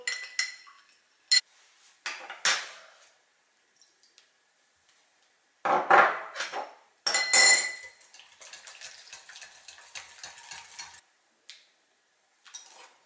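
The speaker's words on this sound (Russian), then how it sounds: "Пищевой краситель разбавляю лимонным соком. Все хорошенько перемешиваю." A spoon works through custard tinted with food coloring thinned in lemon juice, clinking and scraping against a bowl in scattered short bursts separated by quiet pauses.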